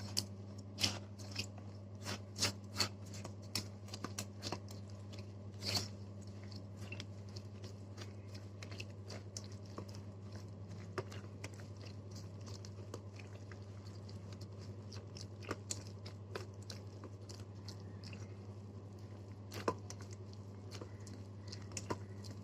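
A spoon stirs potato idli batter mixed with curd, salt and baking soda in a bowl, producing quiet, irregular clicks and soft wet scrapes close by, with no talking.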